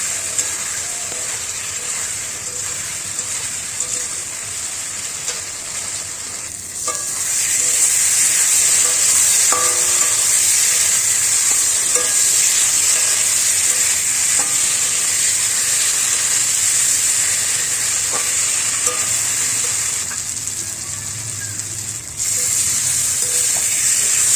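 Masala for a pabda butter fish curry sautéing in a pan with a splash of water, a steady bright sizzle and hiss close by, occasional faint stirring knocks, swelling louder partway through.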